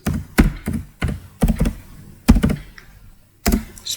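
Keys clacking on a computer keyboard while entering a spreadsheet formula, a handful of separate taps and short bursts spaced irregularly, close and fairly loud with no talking.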